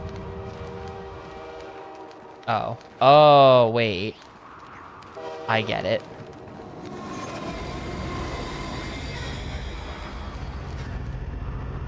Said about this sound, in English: And the train stops on a dime.